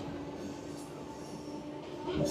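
A passenger train on the Purulia–Howrah route via Masagram runs round a curve, heard from inside the front coach as a steady rumbling roll with a faint squeal near the end.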